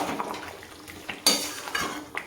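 Food with green chillies is stirred in a pan, and a metal utensil clinks and scrapes against the cookware in brief, irregular knocks over a faint background hiss.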